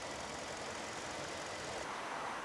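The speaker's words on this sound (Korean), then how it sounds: "이거는 엔진이 그만큼 노후가 됐다는 거예요" A worn, aged used car engine idles with its oil dipstick pulled out, giving a steady, low broadband rumble and hiss throughout, continuous and fairly quiet with no voices.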